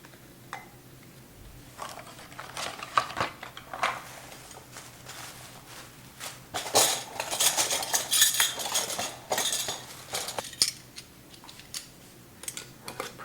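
Metal lids and screw caps clink and clatter onto glass jars of homemade Kahlua liqueur, a series of close, uneven taps and rattles that cluster densely in the middle.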